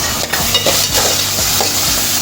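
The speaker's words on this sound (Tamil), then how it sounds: "பாருங்கள், இப்போ இந்த வெங்காயம், பூண்டு எல்லாம் நல்லா பொரிஞ்சிடுச்சு." Onion, garlic, green chili and tomato fry in a pan for drumstick fry with a loud, continuous sizzle, marked by a few soft stirring scrapes. Nobody talks.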